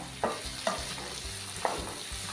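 Chopped tomato is stirred into onions frying in a pan for a home-style dry broccoli dish. A steady oily sizzle runs throughout, broken by three distinct spoon scrapes against the pan, with no talking.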